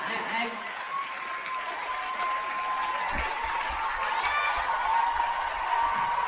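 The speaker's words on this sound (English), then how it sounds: "What are they clapping at?" Audience at a comedy show breaks into sustained applause, a dense wash of many hands clapping from a large crowd that holds steady throughout, with a voice speaking over it.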